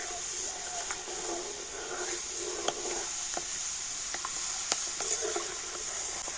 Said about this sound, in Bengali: অল্প অল্প করে দিয়ে কিন্তু এইভাবে ভেজে নিতে হবে